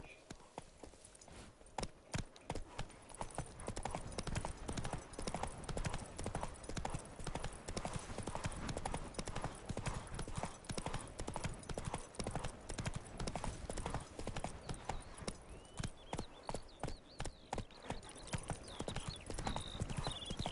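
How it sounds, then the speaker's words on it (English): Galloping horse hooves from The Witcher 3 video game, a steady rapid clip-clop rhythm running continuously and loud, with a brief whinny and faint game ambience behind it. "Run, Roach"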